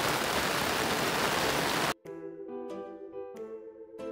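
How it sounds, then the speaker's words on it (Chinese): Heavy pouring rain at the Fushan Xingyue campground during a summer camping trip, a loud, dense, steady hiss for about two seconds before it cuts off abruptly and music takes over. "倾盆大雨耶！"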